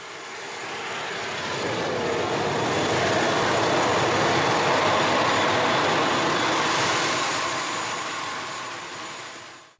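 An Air Bagan airliner landing at Bagan, Myanmar, produces a loud, sustained engine roar that swells through the middle and eases off at the end.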